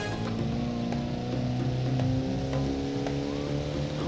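A car engine in the driving game Automation drones steadily at high revs, a loud, continuous hum with a dense stack of tones and no pauses.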